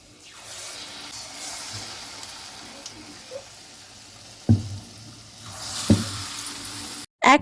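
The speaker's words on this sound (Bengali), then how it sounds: "এবার আমি তালের ফুলুরিগুলো একটা একটা করে দিয়ে দেব তেলের মধ্যে" Palm fritters (taler fulluri) sizzle in hot oil in a home kitchen, a soft steady frying hiss. Sharper splashes and clatter come as batter drops in and a utensil moves, and there is faint background noise.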